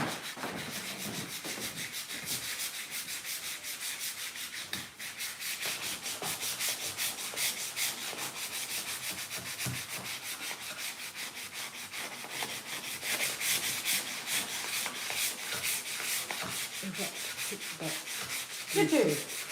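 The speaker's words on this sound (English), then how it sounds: "And we can go on to sanding." Steady sanding on a wooden chest of drawers fills the whole stretch with continuous rasping, rubbing strokes, close and even, with no talking.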